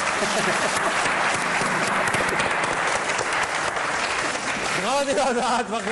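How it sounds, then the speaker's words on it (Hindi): Studio audience applause for Razzaq on a World Cup 2023 cricket talk show: dense, loud, steady clapping that fills the whole stretch, with a voice rising over it near the end. "तालियां।"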